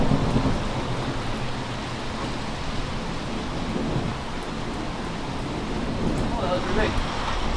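Steady rain pours outdoors as a storm approaches, a dense continuous patter with low thunder rumbling beneath throughout.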